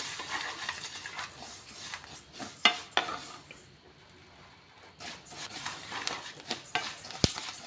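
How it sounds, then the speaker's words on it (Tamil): Rice roasting in a pan over a medium flame while being stirred, a steady dry sizzle and scraping with intermittent metallic clicks of a spoon against the pan, close and moderately loud. "அரிசியை ரொம்ப ஹையில் வச்சு வறுக்காதீங்க மீடியம் ஃப்ளேமில் வச்சு வறுத்துக்கலாம்"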